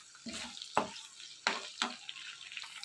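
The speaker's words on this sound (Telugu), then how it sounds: "ప్యాన్లో ఆయిల్ పోసుకుని ఆయిల్ బాగా వేడెక్కిన తర్వాత జీలకర్ర ఎండుమిర్చి ఎల్లుల్లిపాయలు కరివేపాకు పచ్చెనపప్పు మినపప్పు వేసుకుని ఇవన్నీ కూడా బాగా వేయించుకోవాలి" Whole spices such as cumin, dried red chillies, garlic, curry leaves, chana dal and urad dal sputter in hot oil in a pan while being stirred, a steady close sizzle broken by a few sharp stirring scrapes.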